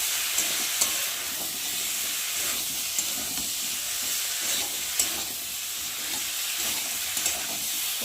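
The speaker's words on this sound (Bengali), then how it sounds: "ঝিঙে দিয়েছে তো ঝিঙেটা খুব কষিয়ে নিতে হবে" Steady sizzling of ridge gourd stir-frying with spices in a hot pan, with occasional scraping clicks of a spatula stirring, continuous and close, no voices.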